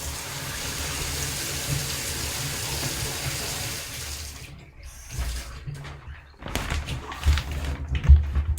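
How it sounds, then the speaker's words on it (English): Shower water runs in a steady hiss and splatter, then cuts off abruptly and returns as scattered drips and bumps, close and fairly loud with no talk. "turn the shower off."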